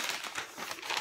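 Gold and silver wrapping paper is handled and crinkled at close range, a steady rustling without pauses.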